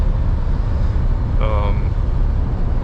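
Mercedes-Benz truck driving on a highway homeward from Davos, Switzerland: a loud, steady engine and road drone fills the cab throughout, with a brief tonal whine rising over it midway.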